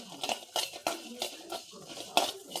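Coriander seeds, black pepper and spices dry roasting in a pan for a shellfish and raw jackfruit sukka, heard as rhythmic scraping and clinking of a spoon against the pan, roughly five or six strokes, close and fairly quiet with no talk.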